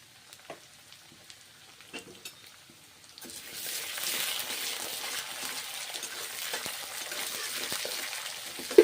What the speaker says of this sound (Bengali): ভেজে নিচ্ছি এইভাবে মুগের ডালগুলোকে রান্না করছি